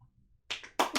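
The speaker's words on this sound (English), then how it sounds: "Golf clap." A few soft, sparse claps, a polite golf clap of roughly three or four quick hand strikes, close and quiet, lasting under a second.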